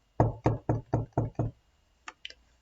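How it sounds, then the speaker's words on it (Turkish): Six even knocks on a wooden door in Minecraft, sharp and close in a steady rhythm, followed after a pause by a few fainter game clicks. "Dur şu kapıyı çalayım hemen."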